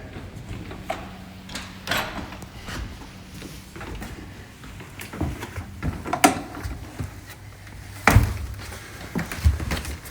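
A door to a church organ pipe chamber, during an organ restoration, is worked open with scattered knocks, thuds and creaks, one sharp louder thunk near the end, all close by and without talk.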